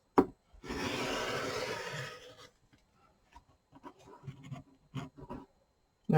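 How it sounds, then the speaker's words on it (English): A cutter trims the edge of a fabric quilt block for a double-sided bordered stripes design, held flat under a weight. A close, steady rasping stroke lasts well over a second, then several soft scattered ticks and taps follow. "Grab my weight and start trimming."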